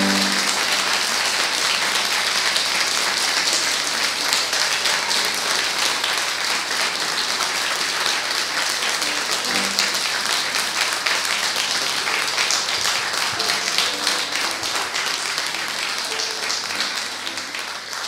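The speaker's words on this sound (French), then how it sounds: "Allez, on applaudit." A church congregation at a worship service bursts into applause, a dense, steady wash of many hands clapping that fills the space loudly for about eighteen seconds and fades slightly at the end.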